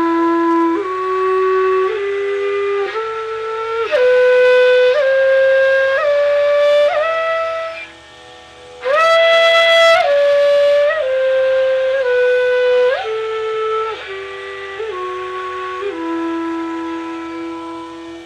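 A breathy bamboo flute plays a slow minor scale up and back down, one clear sustained note at a time, with no voices.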